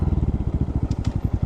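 A 2023 Honda 125 Monkey motorcycle is ridden close by, its small single-cylinder engine producing a rapid, loud, throbbing putter with a steady pulsing rhythm and a light clatter.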